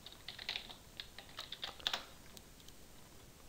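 Someone types on a computer keyboard in a short burst of light, quick clicking keystrokes, close but quiet, followed by a pause with a stray final tap.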